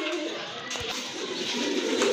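Pigeons in a low-priced pigeon sale collection coo softly and steadily amid a busy, noisy market background, with no clear speech over them.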